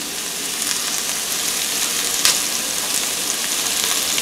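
Oil sizzling steadily in a hot pan while chicken is prepared, a dense bright crackle close up with a brief sharper pop midway.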